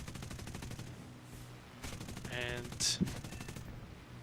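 Machine guns of a P-40F Warhawk fire bursts at an SM-79 Italian bomber during a video game air battle, rapid loud rattling in repeated volleys, with someone talking over parts of it.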